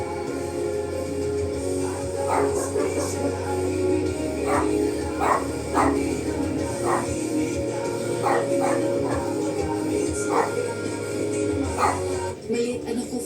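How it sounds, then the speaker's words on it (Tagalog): A dog lets out a series of short, evenly spaced barks and yips at moderate distance, heard over a steady indoor background hum with some talking nearby. "Ikaw talaga tahol ka na naman."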